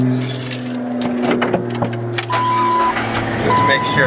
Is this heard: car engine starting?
yes